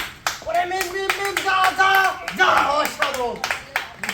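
A crowd at a village blindfolded football game claps together in quick bursts, with an excited voice speaking over the applause near the microphone.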